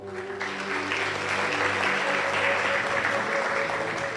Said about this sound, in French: vous pouvez déjà vous acclamer